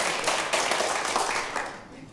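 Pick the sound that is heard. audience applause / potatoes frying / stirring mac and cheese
audience applause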